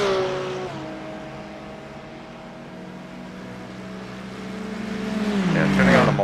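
A GTP prototype race car in an endurance racing game approaches with a steady engine drone that rises in pitch and swells loud as it passes close near the end, over a continuous engine hum from the player's own car.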